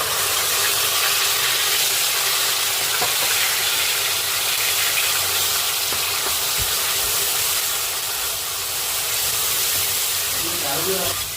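Masala paste of chilli powder, green chillies and coriander fries in hot oil as a prawn and egg curry is made, giving a dense, steady, bright sizzle and hiss close up that goes on without a break.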